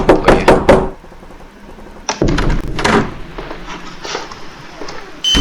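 Several sharp knocks strike a door in a quick burst, then a second, looser series of raps and thuds follows at a slightly lower level, close and loud in a room.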